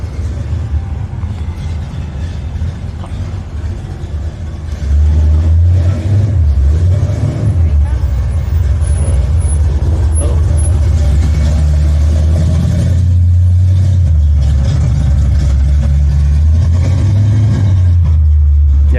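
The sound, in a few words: car engine revving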